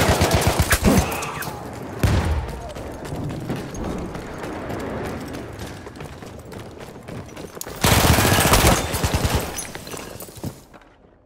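Heavy gunfire on the Fao Fortress map in Battlefield 1: loud machine gun bursts at the start, around two seconds and again near eight seconds, with a constant rumble of distant shooting and explosions between them.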